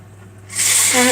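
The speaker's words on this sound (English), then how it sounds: "one more time, blowing my nose" A person blows their nose, a sudden loud, breathy blast that starts midway after a quiet hum and carries a brief honking tone at the end.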